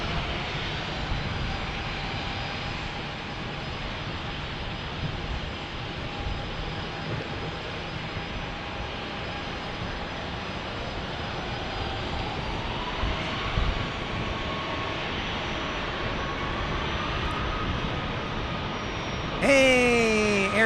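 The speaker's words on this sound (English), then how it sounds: "We have 7 aircraft waiting to take off. And here goes this Challenger" A Bombardier Challenger 600 business jet takes off at San Diego airport, its engine roar a steady, broad rumble that holds throughout at moderate distance, with a voice talking over it.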